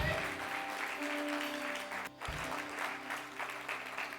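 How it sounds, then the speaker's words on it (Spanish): A church congregation applauds at a sermon, a soft, continuous patter of many hands heard from some distance, with a brief dip midway before it carries on at an even level. "Denle un fuerte aplauso a Jesús."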